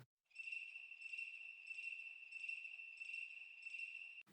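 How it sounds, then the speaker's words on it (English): Crickets chirp in a steady pulsing rhythm, a bright high trill repeating evenly against silence, clean and isolated. "And then the final effect are crickets."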